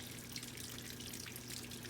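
Water from an indoor garden irrigation system runs steadily for the whole stretch, a soft, even hiss and trickle at low level with no talking.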